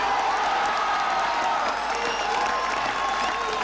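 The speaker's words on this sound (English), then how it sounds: "we don't need to hear the crowd cheering and all that" Crowd cheering and applauding after Reagan's Berlin Wall speech at the Brandenburg Gate, a steady dense wash of clapping and cheering voices, loud and continuous throughout.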